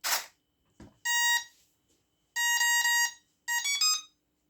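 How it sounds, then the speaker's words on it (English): A Turnigy TGY-i10 radio transmitter powers up with a soft click, then gives three loud, close electronic beep sequences with clear pauses between them and no talking. "you're gonna hear the radio beep"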